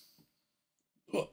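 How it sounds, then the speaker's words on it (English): A single sharp hiccup bursts out near the close, set against near silence after a faint breath, from someone eating a 2021 Paqui One Chip. "Oh, hiccups."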